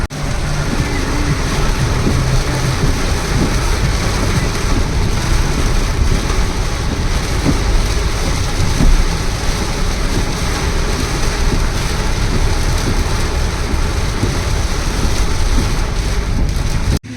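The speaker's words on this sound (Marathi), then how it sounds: "खूपच थोड्या वेळात खूपच जास्त पाऊस पडून गेलाय" Heavy rain pours down steadily on a street, a dense, continuous roar of falling water that holds at an even level for the whole stretch, with no voices.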